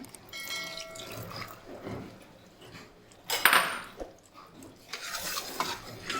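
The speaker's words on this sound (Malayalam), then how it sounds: "ഇനി 3ാം പാൽ ഒഴിക്കുകയാണ്" Coconut milk pours steadily into a pot of jackfruit payasam, with a soft splashy rush midway and light clinks of a utensil against metal; no voices.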